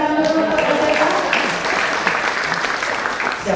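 An audience at a stand-up comedy show breaks into dense, loud applause that fills the room, following a brief spoken moment at the start.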